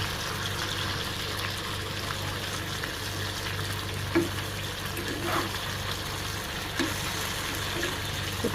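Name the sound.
frying fresh shing fish lightly in pan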